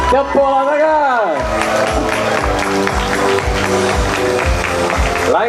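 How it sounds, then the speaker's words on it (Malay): A crowd at the opening of a motorcycle shop in Kamunting claps and cheers. Steady applause follows a voice over a loudspeaker, close and loud, with people talking throughout. "Tepuk tangan."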